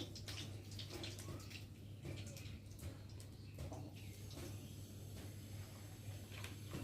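Cooking oil pours from a packet into a bottle in a kitchen, a steady liquid trickle with a low constant hum beneath it.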